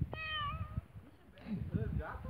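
A kitten in native woodland lets out a sharp, high meow, then a second, rougher cry, heard close by in a short stretch with a person speaking alongside.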